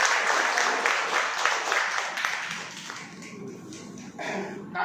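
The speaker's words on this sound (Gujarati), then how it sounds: "હિતેશભાઈ માટે જોરદાર તાળીઓ." An audience applauds at a hotel product demonstration, a fairly soft wash of clapping that fades toward the end while a voice speaks faintly underneath.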